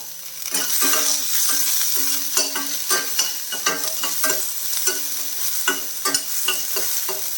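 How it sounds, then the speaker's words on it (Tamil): Ginger and garlic sautéing in oil in a pan for mint chutney, a steady loud sizzle with rhythmic scraping strokes of a spoon stirring close by, no talking. "அந்த இஞ்சி அதையும் சேர்த்துட்டு அதை வதக்கணும்"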